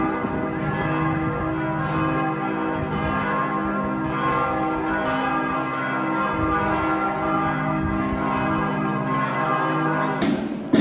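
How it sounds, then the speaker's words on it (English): Church bells in Prague ring continuously and loudly, their overlapping tones sustained throughout with a steady, resonant hum. "Up there, ringing the bells."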